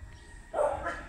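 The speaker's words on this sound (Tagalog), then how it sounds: "may mga asong tumatahol." Dogs barking from neighbouring houses in a residential subdivision in Santo Tomas, Batangas; a burst of moderate, slightly distant barking starts midway and carries on over low ambient background.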